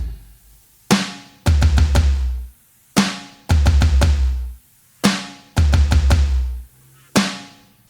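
A Donner DED 200 Max electronic drum kit plays a song's beat: a repeating pattern of sharp hits followed by booming, sustained low strikes, loud and close with a steady, heavy rhythm and no voices.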